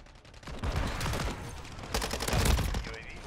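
Rapid bursts of MP5 submachine gun fire in the video game Modern Warfare 3, loud dense rattling volleys with a heavier burst near the end.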